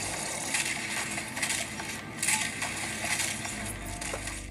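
Chaotic combat against demons in a game on a Steam Deck, with bursts of impacts, clanks and crunching effects layered over a driving background score.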